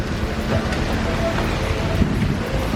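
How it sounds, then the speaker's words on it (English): Rain falls steadily outdoors on a city street, a dense continuous hiss with scattered louder patter and drips, fairly close and unbroken, no voices over it. "Oh my gosh, it's raining."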